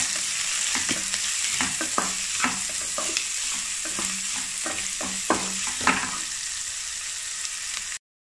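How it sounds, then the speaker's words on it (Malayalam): Onions fry in masala while a spoon stirs them in the pan, a continuous sizzle broken by repeated scraping strokes at an even rhythm, close and clear with no talking. "നന്നായിട്ട് ഇളക്കി കൊടുക്കുക."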